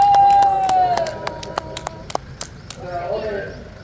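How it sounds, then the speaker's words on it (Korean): A few scattered, sharp claps ring out at an outdoor patriotic car-parade rally's closing gathering, irregular and fairly close, following a brief sustained tone and fading into a murmur of voices. "박수 한번 주세요."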